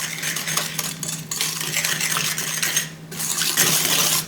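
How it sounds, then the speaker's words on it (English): Rapid metallic scraping and clinking of a whisk against a bowl of pie filling, continuous and busy, close and fairly loud with no talking. "we're going to continue to mix this, or whisk it."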